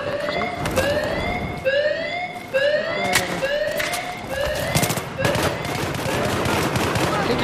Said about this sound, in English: someone's shooting right here